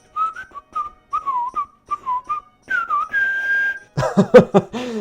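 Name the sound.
person whistling a tune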